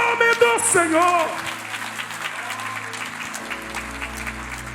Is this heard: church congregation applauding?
yes